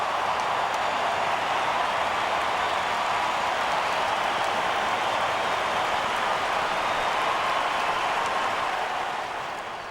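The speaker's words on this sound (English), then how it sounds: "Listen to that crowd." The crowd at the 2006 AFL preliminary final between Adelaide and West Coast gives a sustained roar, a dense, even wash of cheering from a large stadium audience that holds steady throughout.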